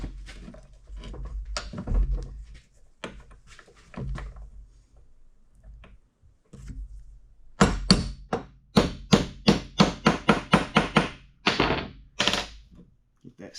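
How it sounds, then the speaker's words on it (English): A part is tapped into seat with a half-inch deep-well socket during hydraulic lever work on a 1950T: a few scattered knocks, a quiet pause, then a fast run of about a dozen sharp, loud metallic taps. "So usually you gotta tap on it with a socket."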